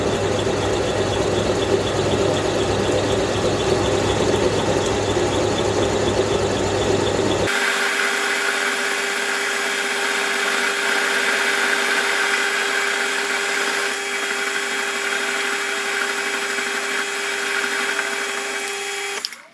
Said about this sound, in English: this is a custom ground annular cutter that I custom ground a while back, and it should leave us with a very clean flat bottom finish